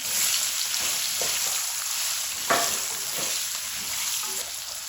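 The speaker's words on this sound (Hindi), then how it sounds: "अब ये सब्जियां, पहले मैं आलू और गाजरें डालूंगी।" Potatoes and carrots hiss and crackle in a hot karahi with oil, a steady close sizzle filling the whole stretch, with a brief louder burst near the middle as they settle and are stirred.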